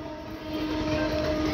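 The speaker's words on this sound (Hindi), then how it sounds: "Kashipur Bareilly city 5352 DEMU" Kashipur–Bareilly City DEMU diesel multiple unit train rushing past, a loud steady rumble with a sustained horn-like tone swelling as it nears, no voices.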